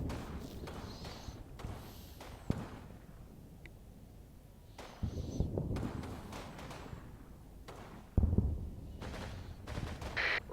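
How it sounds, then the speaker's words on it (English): Artillery barrages in a tactical war game around Aachen, heard as irregular dull booms and thumps, with heavier impacts hitting around five and eight seconds over a low rumbling background. "Artilleriebeschuss!"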